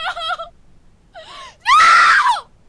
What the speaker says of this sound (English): But this time it sounded like a scream for help.